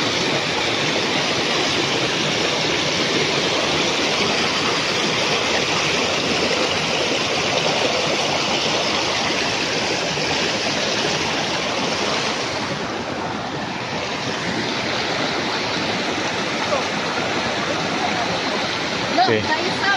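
A rushing river crossing on the trail to the Tancak Tulis waterfall pours as a loud, steady wash of whitewater, dense and continuous close by, with no break for the full stretch.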